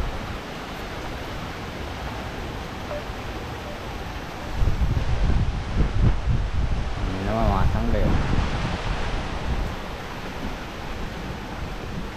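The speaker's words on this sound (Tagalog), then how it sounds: "Sobrang lakas ng hangin na yun, no?" Strong wind roars outdoors around a garden of sponge gourd and chili plants, a dense steady rush buffeting the microphone that swells louder midway, while someone speaks briefly over it.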